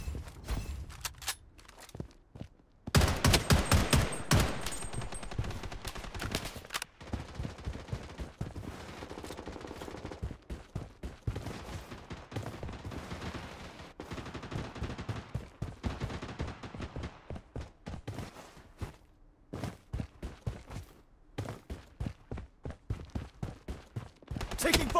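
Gunfire in the shooter video game Blood Strike, bursts of rapid automatic fire and single shots recurring across the stretch, loud and close, with occasional game voice lines.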